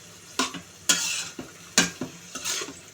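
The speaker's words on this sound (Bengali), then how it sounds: "দিয়ে ভালো করে কষিয়ে নিচ্ছি" Boiled malabar spinach stems and shrimp sautéed in a pan, with four distinct scraping stirs and spatula clinks over a soft sizzle, close and fairly quiet.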